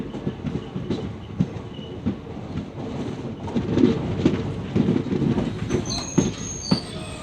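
Mithila Express passenger train on the Howrah–Raxaul route, heard from aboard as a steady rumbling run over the rails with rhythmic wheel clatter and occasional high squeals, continuous and fairly loud, with no talking.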